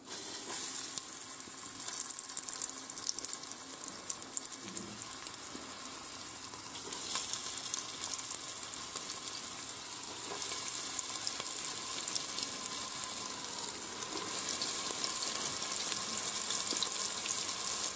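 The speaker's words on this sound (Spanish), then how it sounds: "Ahora que está caliente el aceite, lo que hacemos es sellar las carrilleras." Pork cheeks sear in hot oil inside a pressure cooker, a steady close sizzle and crackle of frying that holds on without a break and grows slightly louder toward the end.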